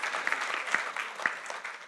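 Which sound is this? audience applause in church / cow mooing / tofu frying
audience applause in church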